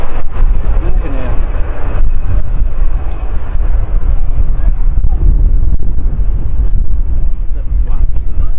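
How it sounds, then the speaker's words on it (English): A Loganair airliner lands at Manchester Airport, giving a loud, continuous, rumbling roar throughout that is heavy in the low end, with a spectator talking excitedly over it at an outdoor viewing park. "Good landing by Logan Air."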